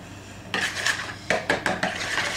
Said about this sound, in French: Donc vous allez les travailler au fouet